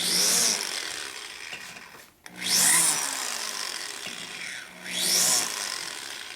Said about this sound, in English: It's deburring. We're not supposed to be cutting.